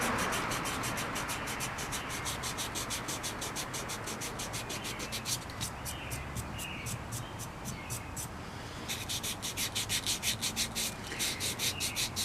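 A porcelain-style Effanbee Patsy doll being sanded with 180 grit sandpaper, a steady rapid rasping scrape of strokes repeating close by, pausing briefly before resuming, with no talk.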